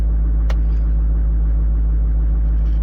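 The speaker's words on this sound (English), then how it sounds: "this truck starts very good." Diesel truck engine idling steadily after a cold start at 22 degrees, with glow plugs cycled beforehand; a continuous low, loud rumble runs throughout with one brief sharp click near the start.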